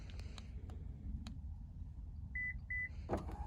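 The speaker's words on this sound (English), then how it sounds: "You press and hold the rear hatch button, this third button right here. That will open the rear hatch." A 2020 Subaru Outback power rear hatch opens by key fob command, with a steady low motor drone, two short beeps, and a brief clunk near the end.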